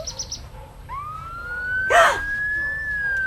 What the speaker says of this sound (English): That was really a loud siren of a fire truck.